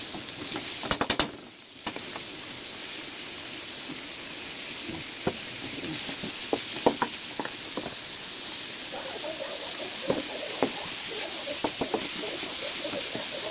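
Ground meat hits a hot frying pan and sizzles in a steady, quiet hiss, with a few sharp clicks and knocks of utensils scattered through it.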